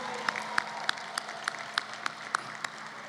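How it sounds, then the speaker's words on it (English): Audience at a Lincoln University commencement ceremony applauds the valedictorians: a light, fairly distant patter of clapping with a handful of distinct sharp claps standing out at a regular pace. "Can we give them another round of applause?"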